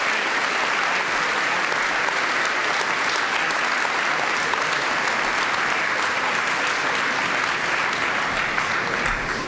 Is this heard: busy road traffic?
no